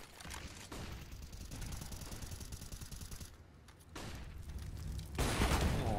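Gunfire in Counter-Strike: Global Offensive during a professional match between Imperial and MIBR, heard as dense, rapid rattling bursts that build and break off, with a sharp loud blast near the end.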